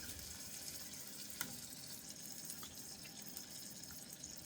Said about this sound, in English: And then let those sear off.